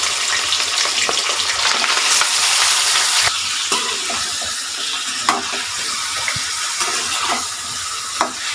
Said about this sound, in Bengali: মাংসটা এই ঘিয়ের রুটে ভালো করে ভেজে নিতে হবে